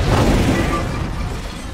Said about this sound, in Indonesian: sebuah bom meledak lagi.